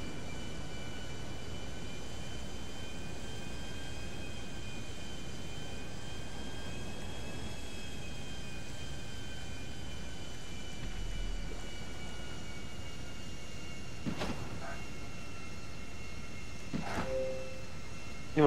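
Airplane engine in a video game, a steady humming drone with faint tonal whine held throughout, with a few short sharp interjections near the end.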